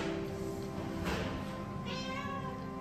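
A cat recovering from a badly injured leg gives a soft meow, moderately close, over a steady background hiss in a quiet room.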